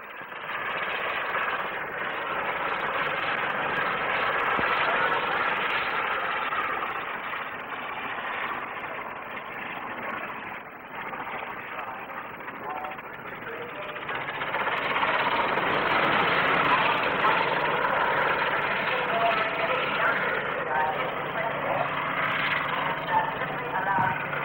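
An ultra-light rotor-tip-jet aircraft climbing at the 1958 Farnborough flying display, a continuous broad engine roar that swells and fades over about twenty-five seconds, heard from a distance on a thin, old-style recording.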